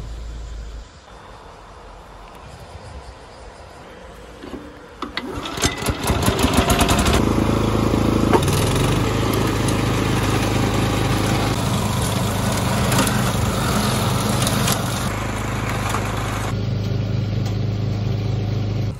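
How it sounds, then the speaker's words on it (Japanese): A small two-stroke brush cutter engine idles, then revs up loud and steady while cutting grass, holding a buzzing drone with slight fluctuations before easing off near the end. "草刈り機を使ってやっていきたいと思います"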